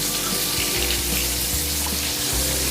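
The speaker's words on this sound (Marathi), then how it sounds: "सोनेरी होईपर्यंत असं तळून घ्या" Mung dal and potato gulab jamun balls deep frying in hot oil, a steady dense bubbling hiss that runs unbroken and close, with faint low knocks underneath.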